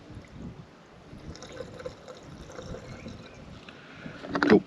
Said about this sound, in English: So we'll just take the cap off of that. Cool, and pour the additive in.